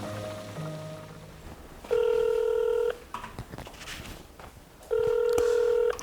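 Two sustained electronic telephone tones about a second each while dialing a phone, separated by a pause with light clicks and background noise, no one speaking.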